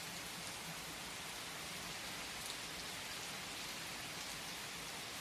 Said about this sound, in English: Just as this rain nourishes the earth and the earth nourishes the trees